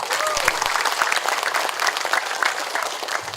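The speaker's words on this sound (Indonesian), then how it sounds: "Tepuk tangan untuk beliau" Applause from an audience at a party gathering in Pedes, Karawang, honoring a local party cadre and NU chairman; dense steady clapping fills the whole stretch at moderate level, with faint voices mixed into the crowd.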